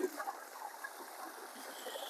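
Water pumped up from a creek through a fire hose pours out onto flood-damaged ground, a faint, steady rushing and trickling with no voices.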